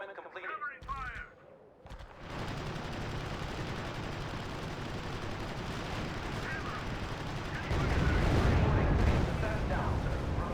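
Heavy battlefield gunfire and artillery in the World War II strategy game R.U.S.E on Utah Beach during D-Day, a sustained roar of machine guns and blasts that grows louder near the end, with brief radio-style voice callouts.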